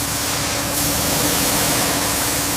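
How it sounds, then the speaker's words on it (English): A high-pressure spray applies rust inhibitor in a tunnel boring machine factory, producing a constant, even hiss of noise that steps up a little partway through, steady with no talking. "Start the high pressure spray on the rust inhibitor."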